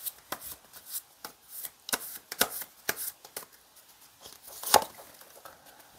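Tarot cards are shuffled and drawn by hand, making close, soft flicks and riffling snaps in an irregular patter, with one sharper slap near the end.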